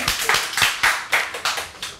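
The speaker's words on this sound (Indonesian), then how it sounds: "Ya, tepuk tangan buat kita semua" Hands clap in a quick series of loud, close, sharp bursts, several distinct claps spaced fairly evenly on an Indonesian talk-show set, with no talk over them.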